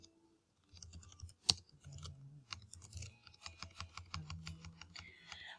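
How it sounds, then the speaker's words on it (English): Rapid, irregular clicks of typing on a computer keyboard while editing a PBworks wiki page, close and fairly quiet, with a sharper single click near the start. "now you can start typing"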